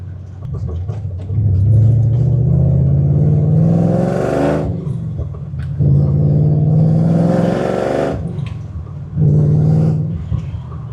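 A swapped-in Ford Coyote V8 engine with MagnaFlow exhaust revs repeatedly in three rising surges, each climbing in pitch with a deep rumbling exhaust note, loud and close, settling to idle between pulls.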